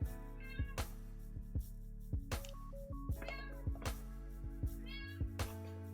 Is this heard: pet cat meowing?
yes